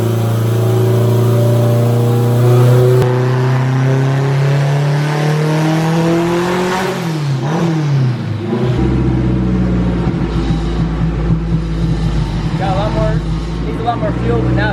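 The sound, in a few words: AWD K-swap car engine revving on a dyno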